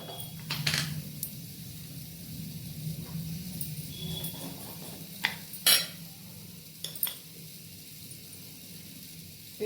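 A spoon stirring batter of lemon juice and cornflour in a bowl, giving light clinks and scraping taps against the dish, a few sharper knocks standing out over quiet background hiss.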